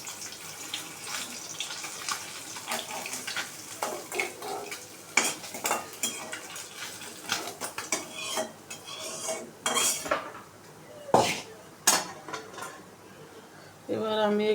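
Metal utensils scrape and clink against a pan while fried tangra fish are lifted out, with faint sizzling underneath and repeated close clatters at an irregular pace.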